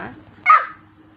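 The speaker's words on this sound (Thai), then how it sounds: "เสียงหมาร้องเสียงหมาหอน" A single short dog bark close by, sharp and loud, rising out of a quiet background.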